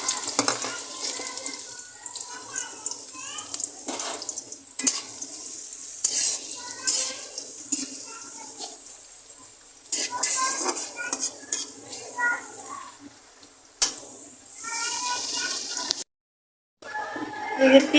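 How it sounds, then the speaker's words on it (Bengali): Onions fry in hot oil in a wok for lentils, with steady sizzling and repeated scraping and clinking of a utensil against the pan. A short quiet gap comes near the end. "তেলটা গরম হয়ে গেছে, যে পেঁয়াজ দিয়ে দিলাম।"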